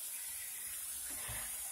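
Water hisses steadily through a plumbing angle stop valve, a faint continuous rushing trickle with no voices.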